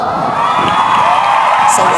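A loud crowd cheers, whoops and applauds continuously for a performer at a Zumba dance session, with children shouting in the mix.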